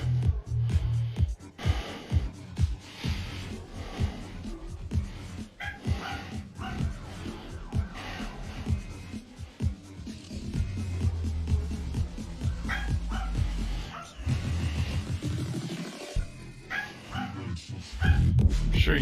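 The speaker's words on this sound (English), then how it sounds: "I'm sure you can hear Henry barking in the back" A dog barks repeatedly in the background during a home rowing machine workout, sharp yips and woofs in irregular bursts, with the machine's rhythmic whooshing and occasional breathing nearby.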